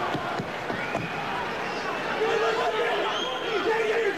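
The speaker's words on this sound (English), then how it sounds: "Oohs and ahs from this crowd behind every shot thrown" A crowd at a kickboxing match between Zambidis and Ozkan murmurs and reacts in a steady, moderately loud babble, with a commentator talking over it throughout.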